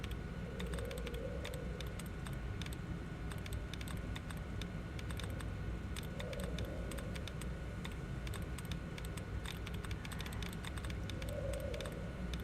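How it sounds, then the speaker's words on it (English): Fast, steady typing clatters on a computer keyboard for the whole stretch, loud and close, with dense clicking keystrokes over a faint background hum and no talking. "This is exactly what it sounds like when I'm typing."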